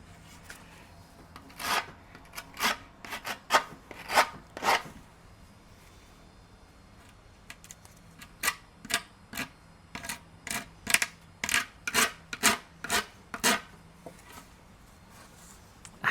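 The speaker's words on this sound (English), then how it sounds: "I guess I really got to file it down to make the shape look more aesthetic." A wooden skateboard deck being filed by hand in bursts of rasping strokes: a cluster of scrapes, a pause, then a longer run of steady, evenly spaced strokes, close and clear with no talking.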